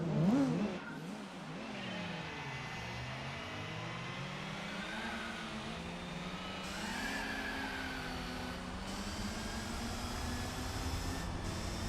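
A car engine in Gran Turismo 4 revs and accelerates with nitrous, rising and falling in pitch through gear changes as a steady, moderately loud drone with no talking.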